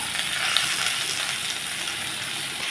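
Potatoes and pointed gourd frying in hot oil in a pan, a steady, close, continuous sizzle with no talk.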